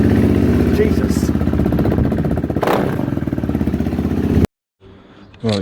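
A KTM Duke 390 motorcycle with its stock exhaust revs close by in a loud, throbbing burst, then cuts off abruptly before a short restart at the end.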